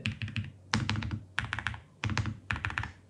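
NuPhy low-profile mechanical keyboard keys pressed in quick bursts of several clacky taps, close and crisp, with short pauses between groups.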